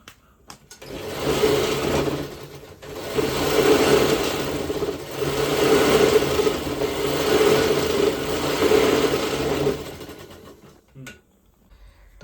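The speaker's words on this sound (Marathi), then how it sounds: "ज्याप्रमाणे पूर्ण ही जी डोरमेट आहे तिला आता आपण टीप मारून घ्यायची आहे" A sewing machine stitches along a homemade fabric doormat, a loud, close, steady mechanical whir that runs for about ten seconds before stopping.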